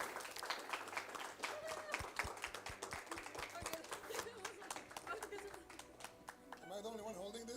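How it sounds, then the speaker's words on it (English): Scattered clapping from an audience at an esports award ceremony for a World of Warcraft: Dragonflight tournament, brisk at first then thinning out, while a voice speaks over it near the end. "And a final round of applause for Team Sweden."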